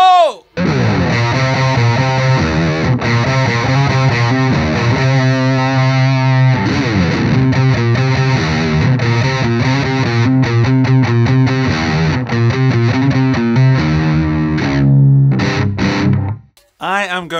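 Heavily distorted electric guitar through an H&K Spirit Nano amp on a metal tone, played loud with chugging rhythm riffs and sustained chords, continuous and close before cutting off near the end.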